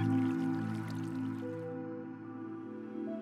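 Water placed in Minecraft Skyblock gives a soft, wet drip-and-squish splash over steady, sustained game background music.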